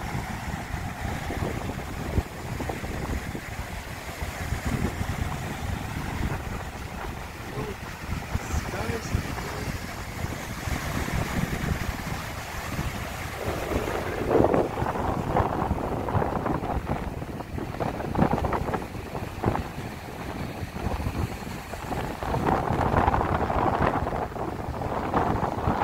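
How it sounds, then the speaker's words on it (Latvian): Strong wind buffets the microphone on a sandy beach in Ayaş, Mersin, with heavy low rumbling gusts, while a person talks throughout. "Šodien vējš, tā kā bišķiņ riebīgi skaņa."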